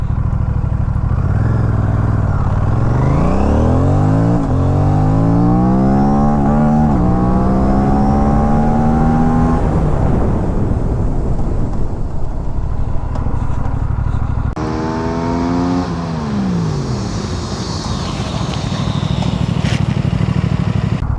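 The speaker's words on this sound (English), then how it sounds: "I will take it up to 100 kmph before applying the brakes, and then I will jam the brakes" A Royal Enfield-style RS457 motorcycle on a road test accelerates hard through rising gears toward 100 km/h, engine pitch climbing and dropping with each shift, then rolls off into hard ABS braking with tyre and brake noise as the engine settles.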